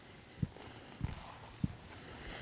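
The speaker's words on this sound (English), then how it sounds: "Okay, go ahead and walk your horses." Horses walking in an arena during a winter group session, three soft, evenly spaced hoof thuds over a faint background hum.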